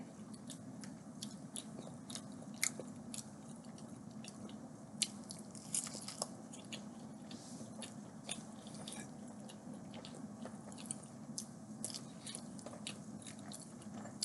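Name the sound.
eating pancakes and eggs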